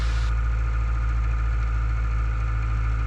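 Steady engine drone of a Cessna 152 held at 1700 RPM in flight, heard from inside the cockpit as a constant, loud low hum with no talk.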